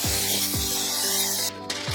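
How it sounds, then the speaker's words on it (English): Baking spray with flour sprayed into a removable-bottom cake pan, a continuous close aerosol hiss lasting over a second, with faint metallic scrapes and clicks around it. "you just spray it with baking spray with flour"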